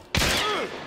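A single loud rifle shot in the video game Hunt: Showdown, a sharp close crack followed by a ringing, whistling tail that fades out within a second.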